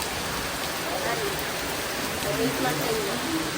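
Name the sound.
heavy rain falling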